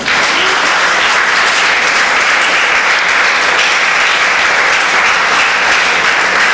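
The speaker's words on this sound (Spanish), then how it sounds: "Denle un aplauso al Señor" A church congregation at Templo Bet-EL applauds, a dense, steady wash of clapping that stays loud and even throughout with no gaps.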